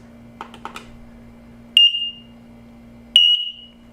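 X-Sense 2-in-1 smoke and carbon monoxide detectors, wirelessly interlinked, give two loud piercing electronic beeps a second and a half apart, preceded by a few soft button clicks over a faint hum.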